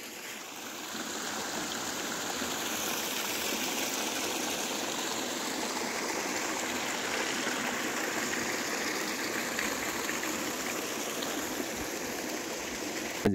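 A Himalayan mountain stream rushes steadily while a can is filled with its water, giving an even, close, continuous wash of flowing water with no talking.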